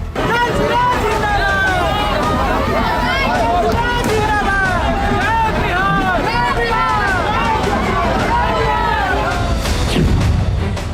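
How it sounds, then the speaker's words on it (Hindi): A dense crowd hubbub fills a street outside coaching centers in Patna, with many overlapping voices, vehicle horns and traffic noise, loud and continuous throughout. "कोचिंग सेंटरों के बाहर भीड़।"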